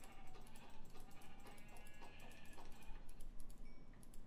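Sheep bleat in the Minecraft video game, several short bleats over a busy, faint background of game sounds, with no talking.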